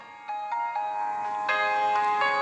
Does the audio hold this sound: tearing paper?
no